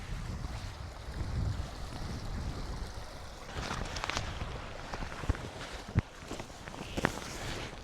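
Wind blows across Dartmoor moorland beside the East Dart river at a wild camp, a continuous low buffeting rush with occasional soft knocks and rustles nearby, moderately loud and without talk.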